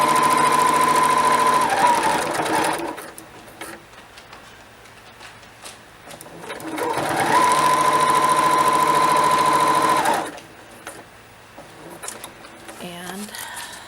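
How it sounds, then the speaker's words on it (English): A sewing machine fitted with a quilting foot stitches a seam through vinyl in two bursts of steady, close whirring, each a few seconds long, with quieter pauses between them. "I'm going to sew at the quarter inch mark. This is a quilting foot"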